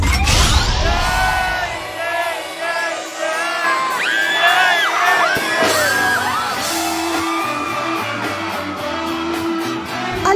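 A crowd at a budots reggae performance by a Mindanao singer whoops, yells and shouts wildly, loud overlapping cheers and bursts of screaming with bangs rising and falling throughout.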